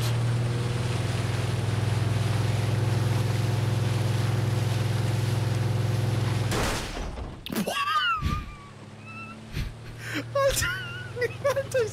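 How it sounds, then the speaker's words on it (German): A boat engine in the video game Ring of Elysium drones steadily and loud for several seconds, then cuts out abruptly, giving way to scattered clicks, splashes and gunfire-like bursts under talking voices. "Okay, ich hab das Boot."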